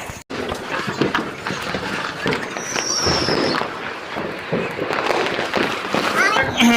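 Diwali firecrackers pop and crackle amid a noisy outdoor crowd, with several sharp bangs scattered through the festive din.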